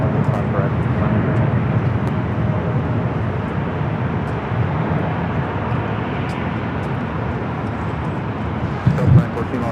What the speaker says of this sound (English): We do have that Japan Dreamliner now rolling down there 25 right.